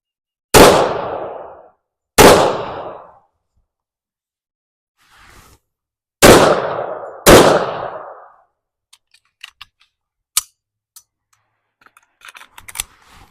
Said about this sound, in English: All right, we're ready to shoot.